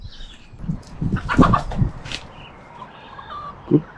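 Chickens squawk and cluck in agitated bursts while their wings are being clipped, loud clustered calls in the middle, then a quieter stretch and one more short squawk near the end.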